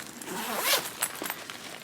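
Zipper on a small pocket of a bag being pulled open, a quick rasping zip with a few short follow-up tugs, close and clear with no talking.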